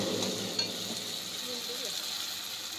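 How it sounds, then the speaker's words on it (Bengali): Spice paste and chopped tomato sautéed for goat meat, a steady moderate sizzle throughout with a faint clink near the start, close and without talk. "এইগুলো দিয়ে ভালো করে কষাতে হবে"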